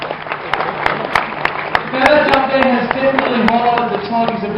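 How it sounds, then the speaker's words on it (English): Scattered clapping from a crowd at a tiger show rises amid cheering voices and background chatter, fairly loud and continuous. "give him a big round of applause"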